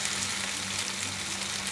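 Tomatoes sizzling in a hot oiled pan while pumpkin curry cooks, a steady, even frying hiss held close throughout with a faint low hum beneath.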